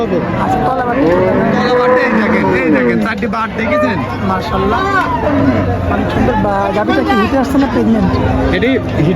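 Holstein Friesian heifers on a farm mooing repeatedly and loudly, with people chatting throughout over the lowing.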